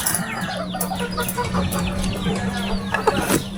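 Chickens cluck repeatedly at close range in a Philippine yard, with short overlapping calls over a steady low hum and some background noise.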